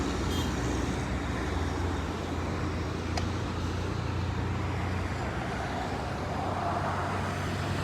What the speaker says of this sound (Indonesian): Mantap, Hino Ranger. Belakangnya ada Mitsubishi Fuso.